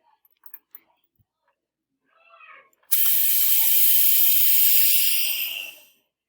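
A few faint clicks and a short murmur come first, then a loud, steady rush of hissing air floods back into an emptied vacuum chamber for about three seconds before tapering into silence.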